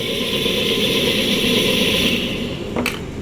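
A three-phase electric motor runs on a single-phase supply with a steady, loud hum and whine that holds for a couple of seconds, then winds down, ending with a brief click.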